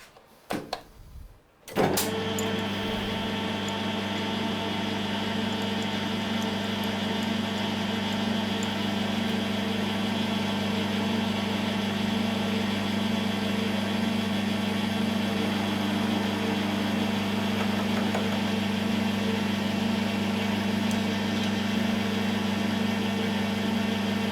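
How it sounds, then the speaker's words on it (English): Metal lathe running while turning connecting rods for a 2-inch scale Fowler showman's engine, a steady motor hum with strong low tones that starts after a brief click and holds constant throughout. "Got to turn the lathe on"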